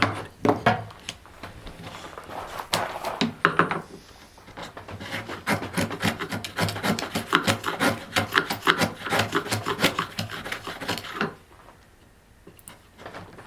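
A Japanese dozuki saw rasps through locally sawn red alder in a long run of quick, even back-and-forth strokes, with a few separate strokes at the start and the sawing stopping near the end; close and moderately loud, no voices.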